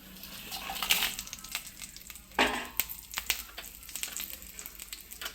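Mustard seeds with green and dry chillies frying in hot oil, a close sizzle broken by sharp pops and crackles, one bigger burst midway, with no one speaking.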